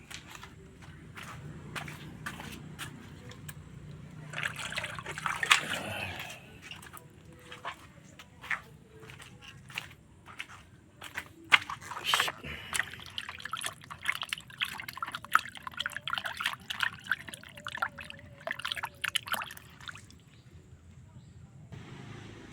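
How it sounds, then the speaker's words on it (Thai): Fish being rinsed under running water while preparing a Thai fish soup, with dripping, trickling and splashing water sounds that grow busier midway, plus some handling noise. "มาล้างปลาก่อนก่อนครับ เดี๋ยวเราก็เอาปลาไปล้างนะครับ"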